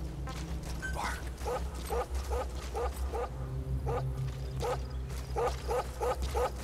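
A dog barks repeatedly in Metal Gear Solid V, a steady series of sharp yips over an ambient game soundscape with a low hum.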